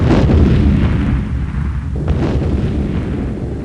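A missile from a Eurofighter EF2000 strikes a ground target in a flight combat game, a loud close boom followed by a rumbling decay and a second softer thud, with no voices.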